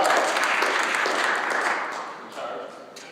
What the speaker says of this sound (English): Round of applause for Tom